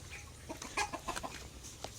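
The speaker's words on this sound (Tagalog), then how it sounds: "meron pa siyang chicken dito." A chicken clucks in a quick run of short, soft notes against quiet outdoor background on a farm.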